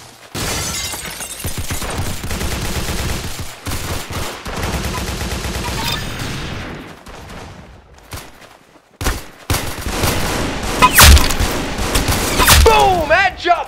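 Rapid gunfire and weapon shots from the Arsenal video game, dense bursts with sharp cracks layered under game music and effects, continuing loudly through the clip with a brief lull midway.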